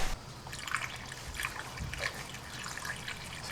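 A thin trickle of mineral spirits flushes through a barb fitting on a Miata oil pan, a faint steady dribble with light splashes, close and quiet.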